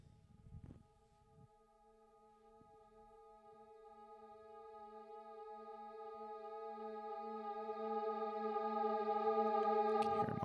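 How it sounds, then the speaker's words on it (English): Choir sample shaped into a riser for a scene transition, with automated panning and pitch; a sustained, layered tone that swells steadily louder and rises in pitch for about ten seconds, ending on a brighter burst. "I'm also using the choir to make kind of like a riser scene transition thing that sounds like this."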